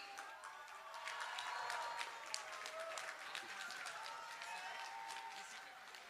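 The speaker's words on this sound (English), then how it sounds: "Everyone, huge round of applause for Mr." A large crowd at a Rahul Gandhi event in New York applauds, many hands clapping in a dense, steady patter that swells slightly and keeps going for several seconds.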